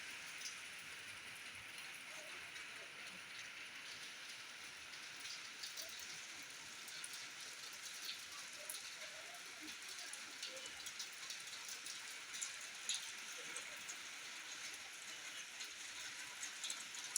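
Heavy rain pours down in a dense, continuous hiss, with scattered drips and patter throughout and no talking.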